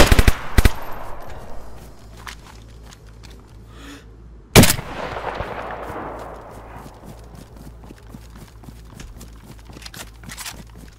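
HK rifle fire in the video game DayZ on a desert map. Sharp gunshots crack close by, including a short burst at the start and a loud single blast partway through. Quieter clicks and rustling fill the gaps.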